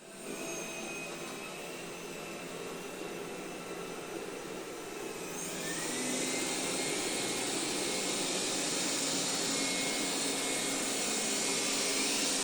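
A Xiaomi Dreame D9 robot vacuum runs on its low mode, a steady whooshing whir, then steps up about halfway to the louder, higher-pitched high mode and holds there, close and continuous with no talk.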